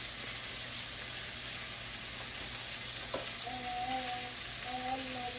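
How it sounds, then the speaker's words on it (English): Meatballs frying steadily in a pan for Swedish meatballs, a constant close broadband sizzle with a few faint clinks and a brief spoon scrape partway through; no voices. "Now you want to simmer these meatballs until you have a nice crust on each side"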